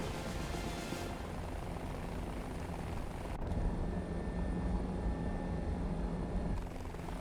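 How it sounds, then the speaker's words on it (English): Military helicopters fly in the War Thunder video game, a continuous mid-distance rotor and engine drone that holds steady throughout with a slight shift in tone partway, with no talking. "I see those helicopters. I should go for them."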